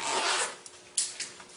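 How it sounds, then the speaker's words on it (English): A suitcase zipper is forced apart with a ballpoint pen, giving a raspy zipping scrape followed by a few short, sharp clicks and ticks, close up and without talking. "they're going to basically disconnect the zipper"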